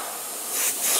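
An airbrush sprays ink over a stencil onto a fishing lure, giving a soft, continuous hiss that swells slightly toward the end.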